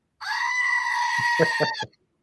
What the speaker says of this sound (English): That's an actual screaming goat.